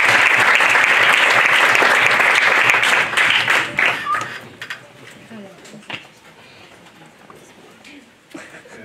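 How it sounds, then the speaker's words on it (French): Audience applause greets a speaker at a university academic forum on international migration, loud and sustained for about three seconds before thinning into scattered claps and room noise. "je vous demande de l'applaudir"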